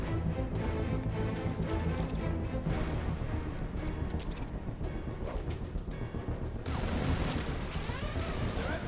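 Enemies in Batman: Arkham Origins fire guns at gargoyles, producing dense continuous rapid gunfire and impacts throughout, layered with game effects and music.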